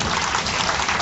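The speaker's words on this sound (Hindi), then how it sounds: "ताली तो बजाओ।" An audience at a spiritual talk breaks into applause, a dense, steady patter of clapping hands over a brief moment.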